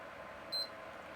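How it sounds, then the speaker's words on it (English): A PlayStation 3 gives one short, faint, high electronic beep after start and select are held together, a single brief tone over quiet background hiss. "if we hold start and select at the same time and wait for the beep"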